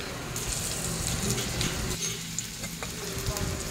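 Ground meat frying in a pan of oil with garlic and onion, a steady close sizzle and crackle throughout, with faint stirring scrapes.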